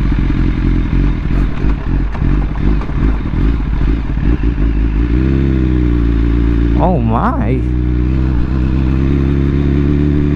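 A motorcycle engine idles and revs with rough, throaty exhaust bursts close by, while a person briefly exclaims over it.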